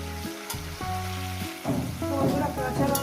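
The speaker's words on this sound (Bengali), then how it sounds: "এরপর দিয়ে দেবো আমি বেগুন আর ফুলকপি। দিয়ে এটা আমি ভাজবো আরো 6-7 মিনিট ধরে।" Eggplant and cauliflower frying in oil in a pan for a Bengali chorchori, a soft steady sizzle that grows busier in the second half, heard under background music.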